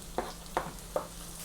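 Spring onions and aromatics sizzle in chili oil under a faint steady crackle, punctuated by three evenly spaced short scrapes of a utensil stirring the pan.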